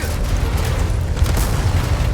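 A deep, rumbling boom from a grenade blast in the Resident Evil 4 Remake video game rolls on as a loud, sustained low roar for the whole stretch, with no talk over it.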